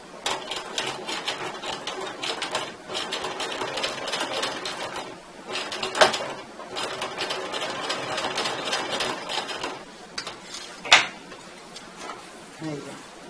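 Sewing machine stitching a rounded zipper onto a half-moon pouch, bursts of rapid rhythmic mechanical stitching with short pauses, close and loud, while someone talks at times in between.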